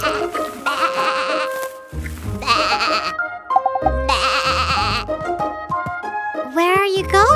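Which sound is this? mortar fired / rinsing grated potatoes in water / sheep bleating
sheep bleating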